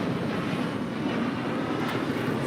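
A Delta Air Lines NEO jet taxies for departure at LAX, a steady broadband engine rumble and hiss holding constant at moderate distance throughout, no voices.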